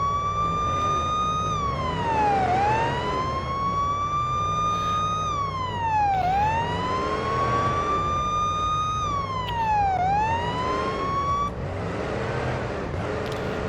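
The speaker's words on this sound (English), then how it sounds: "You can use the sirens." A police car siren in the video game Police Simulator: Patrol Officers wails, rising and falling in slow repeated sweeps, loud and continuous, over a low engine hum.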